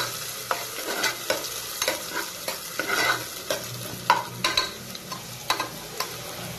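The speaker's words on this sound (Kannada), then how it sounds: "ಈರುಳ್ಳಿ ಹಾಕ್ಕೊಂಡು ಫ್ರೈ ಮಾಡ್ಕೊತಿದ್ದೀನಿ" Onions frying in hot oil for a lima bean chicken curry, a steady close sizzle punctuated by regular scraping spatula strokes against the pan, no talking.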